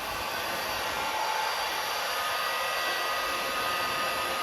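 A heat gun blows continuously and loudly close by, shrinking heat-shrink tubing on a battery cable during an engine transplant on a Bolens Ride-a-matic, a steady airy roar throughout.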